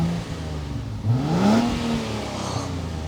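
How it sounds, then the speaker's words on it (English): A 2024 Nissan Z sports car revs through its twin exhausts, a loud, close engine note that climbs sharply in pitch, holds briefly and then settles back toward idle. "Proper twin exhausts that sound like this."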